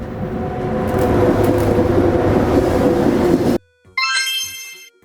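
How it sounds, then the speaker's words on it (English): A sleeper train rumbles along with a loud, steady rolling roar for about three and a half seconds before cutting off abruptly. "A sleeper train has cozy beds for night travel."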